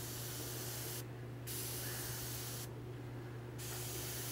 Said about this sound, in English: I'm probably about a foot back from the model with the airbrush